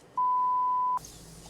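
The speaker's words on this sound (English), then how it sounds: "This beeping noise was actually just the low battery sound from the smoke detectors in the Turpin's home." A smoke detector sounds its low-battery warning as a single clean, sustained electronic tone of just under a second, followed by a brief hiss of room noise.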